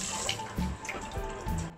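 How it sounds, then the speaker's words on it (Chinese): Dragon fruit rinsed under a running kitchen tap, a steady splashing water stream with small surges as the fruit is turned, close and continuous with no talking. "火龙果冲洗干净"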